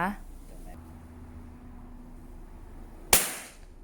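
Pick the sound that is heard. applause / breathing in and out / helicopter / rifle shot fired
rifle shot fired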